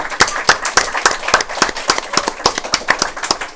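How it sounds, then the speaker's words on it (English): Audience applause at a high school basketball preview show, a dense, steady patter of many hands clapping close by throughout, with no talking over it. "Let's give them a round of applause for Arvest stepping up once again"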